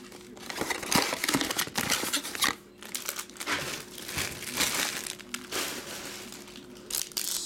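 Baseball card packs are pulled from a tightly packed box, giving close, irregular crinkling and crunching of foil wrappers with brief rustling bursts and short pauses.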